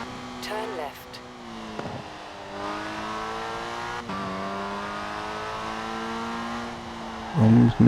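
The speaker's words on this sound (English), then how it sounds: "this car is louder than any other car that I drove for these missions" Forza Horizon 4 car engine revving loudly and steadily in a racing game, rising and falling in pitch with gear changes over several seconds, with someone talking over it and a brief burst near the end.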